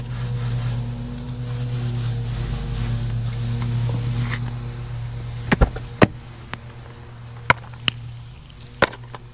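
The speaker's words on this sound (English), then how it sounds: "We have the spray here as well." An aerosol air freshener can hisses in a steady spray for several seconds inside a car, then stops; several sharp clicks and taps follow at irregular intervals.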